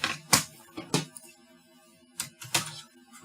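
Light plastic key clicks come in short bursts with pauses between, someone typing on a mini Bluetooth keyboard.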